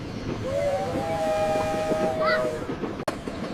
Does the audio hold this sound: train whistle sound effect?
yes